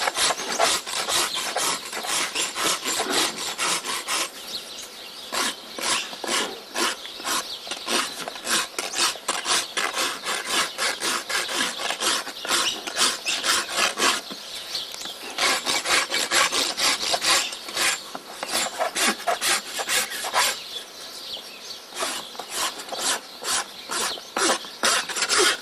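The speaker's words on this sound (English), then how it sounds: "So that's as much rasping as you need to do in the toe" A farrier's rasp scrapes across a Clydesdale horse's front hoof to round off the toe, a loud, rhythmic series of close, gritty strokes repeating steadily throughout with brief pauses.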